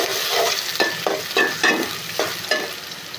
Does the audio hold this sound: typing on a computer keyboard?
no